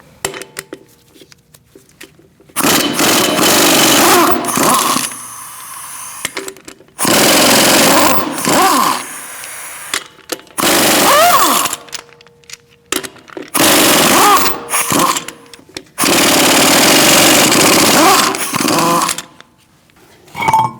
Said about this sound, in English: I'm using a 19mm socket, and we're going to remove the lug nuts.